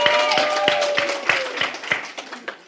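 A crowd at a political rally in Kitengela claps in a steady, rhythmic beat, with voices calling out over the clapping.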